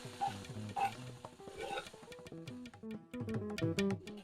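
Mustard seeds and ginger frying in oil in a kadai, with a steady sizzle broken by repeated clinks and scrapes of a spoon stirring against the pan, close and fairly loud throughout.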